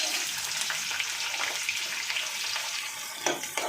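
Garlic, curry leaves and onion frying in hot oil while being stirred, a steady crackling sizzle heard close up, with a few louder scraping stirs near the end.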